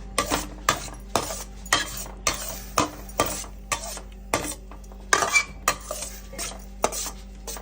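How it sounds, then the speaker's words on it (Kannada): A spoon stirs milk in a pan, scraping and clinking against the metal in a steady rhythm of about a dozen strokes, close and clear with a faint simmer beneath. "ಈಗ ಹಾಲು ಹಾಕೋತಾ ಇದ್ದೀನಿ."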